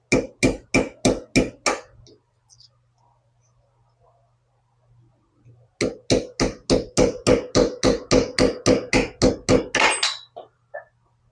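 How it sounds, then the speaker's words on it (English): A screwdriver gently tapping on a Chrysler trim unit part: a quick run of sharp even taps, a pause with faint hum, then a longer steady series of evenly spaced taps, close and clear with no talking. "I'll just keep gently tapping at that"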